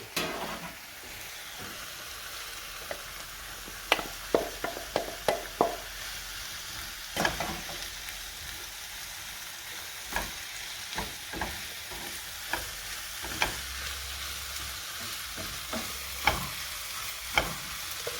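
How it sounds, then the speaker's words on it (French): Rice is stirred into a lightly creamy leek fondue in a pan, making a soft continuous sizzle broken by scattered scraping and clicking strokes of the spoon, close and fairly quiet, with no talk. "à cette fondue de poireaux, qui est un peu crémée, on va rajouter le riz"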